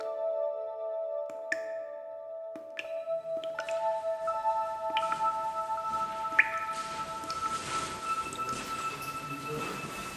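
Water drips inside Fig Tree Cave at Wombeyan Caves, with a few sharp isolated drops ringing out early, then a denser wash of echoing drips and trickling over a resonant hum.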